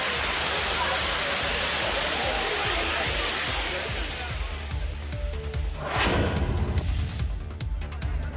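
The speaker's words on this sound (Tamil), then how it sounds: "கொடைக்கானல் வனப்பகுதியில் உள்ள எலிவால் என்று அழைக்கப்படும் தலையாறு அருவியில் ரம்மியமாக விழும் தண்ணீரை கண்டு" Water pours down Thalaiyar (Rat Tail) waterfall in the Kodaikanal forest as a loud, steady, hissing roar that fills the whole stretch and shifts to a rougher, more uneven rush toward the end.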